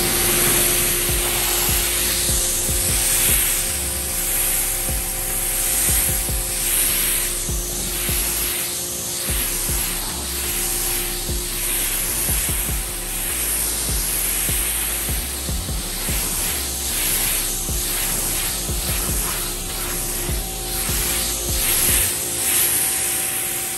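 A pressure sprayer rinsing ceramic SiO2 bubble soap off a car during auto detailing, a loud continuous hiss of water that holds steady throughout without pauses, close to the listener.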